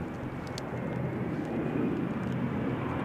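Embraer 170 airliner coming in to land at Newcastle Airport during a windy storm, a steady, faint, broad engine rumble mixed with gusting wind, distant and with no talk.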